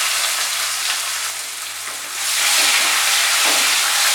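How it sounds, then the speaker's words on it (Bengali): Chopped onion hitting hot oil with a dried red chilli and two bay leaves, a loud, steady broadband sizzle that swells after a couple of seconds and keeps hissing close by, with no talk. "এবারে কুচিয়ে রাখা পেঁয়াজটা দিয়ে দিচ্ছি।"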